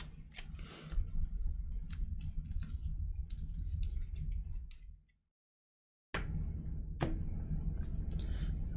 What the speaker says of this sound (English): Okay, I have to go ahead and shuffle up.